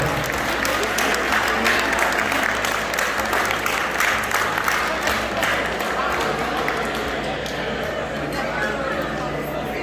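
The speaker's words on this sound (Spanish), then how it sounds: "Fuerte el aplauso para los novios, por favor." A wedding crowd claps loudly and steadily for the newlyweds, with cheering and chatter mixed in, sustained applause that gradually thins toward the end.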